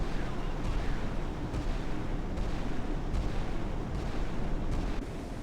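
Naval gunfire in the Sea Power naval combat game, set in the Baltic Sea: a dense, continuous rumble with repeated heavy gun thumps at roughly regular intervals, loud and booming throughout.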